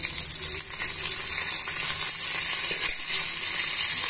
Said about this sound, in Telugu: యాడ్ చేసుకొని ఇవన్నీ దోరగా వేయించుకోవాలి.